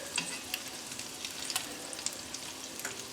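Meatballs sizzle in hot grease as they are laid into a sauce pot, a steady close crackle with scattered sharp pops and brief tong clicks, no voices.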